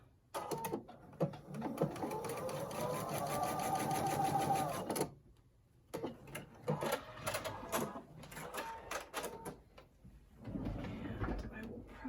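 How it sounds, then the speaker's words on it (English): A sewing machine stitches a strip of a scrappy pumpkin quilt block, a steady close whir for about five seconds, then shorter stop-start runs of stitching with handling noises, moderately quiet and with no talking. "I'm just going to sew it to the stem"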